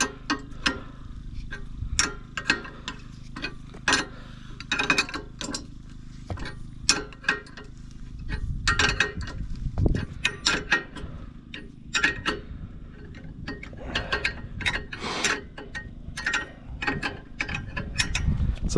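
A wrench tightens the ball hitch bolt on a Yamaha YFM250 Moto-4 ATV outdoors in winter, giving repeated close ratcheting clicks and metallic ticks in irregular bursts over steady low background noise.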